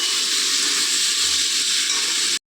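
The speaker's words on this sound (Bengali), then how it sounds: "আলু কুমড়ো ভাজা হচ্ছে" Potato and pumpkin pieces fry in hot oil, giving a steady, loud, close sizzling hiss that runs without a break before cutting off abruptly at the end, with no voices.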